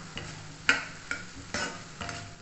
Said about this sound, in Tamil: இதை எல்லாத்தையும் மிக்ஸ் பண்ணிடுவோம்.